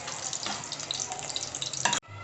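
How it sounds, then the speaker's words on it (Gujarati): Chopped onion frying in oil in a pan for a Punjabi-style capsicum curry, giving a steady close sizzle and crackle that stops abruptly near the end. "હવે તળવાની ડુંગળી."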